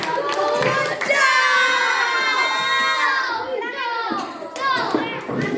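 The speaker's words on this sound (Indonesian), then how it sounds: "beri tepuk tangan untuk kelompok 3" A classroom of children applauds a student group, quick bursts of clapping mixed with loud, excited children's voices shouting and chattering throughout.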